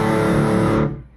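A sustained distorted electric guitar chord through a Boss Katana 100 MkII amp's direct out with stereo expand on. It rings loud and close for about a second, then is cut off and decays quickly, with no voices.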